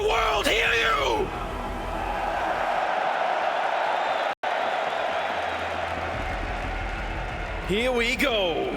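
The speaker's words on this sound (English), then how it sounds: "What an amazing crowd we have here tonight. Cologne, let the world hear you!" A packed esports arena crowd at IEM Cologne 2022 cheers and bellows during a Counter-Strike semifinal, a loud, sustained roar filling the middle stretch, with a commentator's voice at the start and end.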